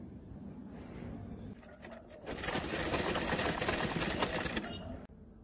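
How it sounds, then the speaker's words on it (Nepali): A sewing machine stitching the piped edges of a kitchen apron, running in a fast steady whirring rattle for a few seconds after a quieter stop-start beginning, close and alone. "यसरी पाइपिङ राखिसकेपछि अब यसको छेउहरू सिलाउने।"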